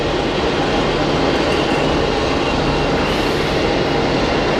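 An Aer Lingus airliner taxiing at Hamburg Airport, heard as a loud, steady broadband roar that holds unbroken for the whole stretch, with no voices.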